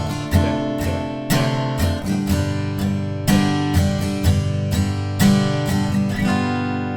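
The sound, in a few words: guitar strumming chords of a song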